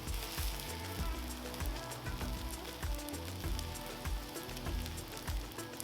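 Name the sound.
stick of butter sizzling on a Blackstone 36-inch griddle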